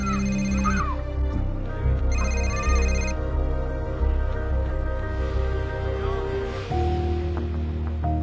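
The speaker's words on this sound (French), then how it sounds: "Il sonnait encore et encore, mais elle ne voulait pas décrocher." A mobile phone's ringtone sounds in two short bursts at a picnic in a park, followed by a stretch of quieter background noise with faint voices and scattered clicks.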